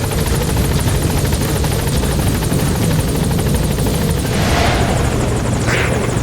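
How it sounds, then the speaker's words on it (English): Support helicopter from the Metal Gear Solid V video game hovering at a landing zone, a loud steady rotor drone with a low throbbing pulse filling the whole stretch, no voices over it. "Support helicopter has arrived."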